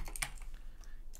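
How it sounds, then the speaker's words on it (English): A computer keyboard clicks quietly in a quick, irregular run of keystrokes, faint and alone with no voices. "I've also moved my keyboard back a bit to hopefully slow down on clicks that you hear."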